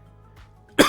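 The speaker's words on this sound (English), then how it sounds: "You're gonna hear some coughing out of me today." A single sharp, close cough bursts out near the end after a moment of near silence.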